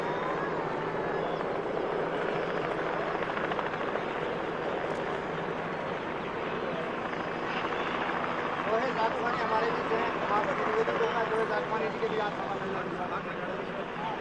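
A helicopter lands in Hardesar village at a ceremony welcoming a minister, its rotor wash and engine roar sustained and loud, with a commentator speaking over it.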